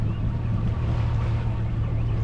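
A low, steady motor hum drones under wind noise and faint water sounds, constant and close without changes in pitch.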